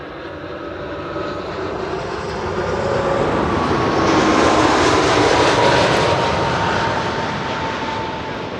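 Jet airliner engines at Schiphol airport, a loud sustained roar that swells to a peak mid-clip and then eases slightly, with a faint whining tone sliding through it, heard alone without talk.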